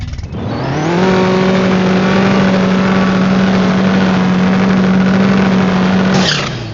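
A modified S10 truck on a drag racing pass roars loudly, its engine climbing quickly and then holding a steady, intense pitch for several seconds before cutting off abruptly near the end. No voices.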